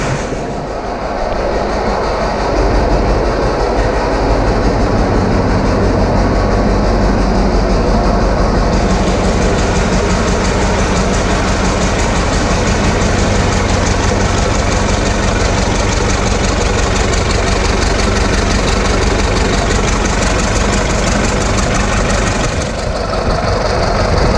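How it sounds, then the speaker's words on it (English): A 1936 Caterpillar RD7 antique tractor's starting engine runs loud and steady, a deep continuous rumble and clatter close by, with a slight change in tone partway through. "That's two starting engines in a row where they fired right up for us."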